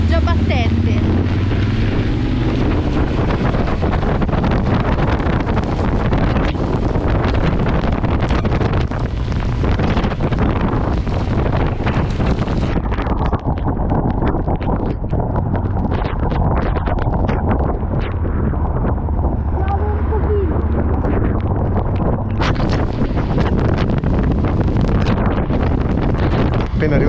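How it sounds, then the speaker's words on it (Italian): Strong wind buffets the microphone outdoors in a constant loud roar and rumble, easing slightly midway, while a person talks over it. "c'è un vento pazzesco"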